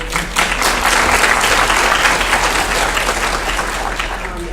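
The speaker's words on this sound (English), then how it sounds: "We want to give a round of applause to our candidates." An audience at a Sacramento County sheriff debate gives the candidates a round of applause, dense steady clapping from a crowd that fills the room and slowly eases off.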